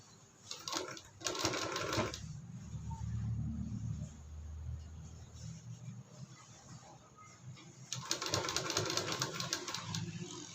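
A sewing machine stitches fabric while a cover is being sewn from scrap cloth, a faint whirring run near the start and another at the end, with a low rumble and a voice speaking quietly between them.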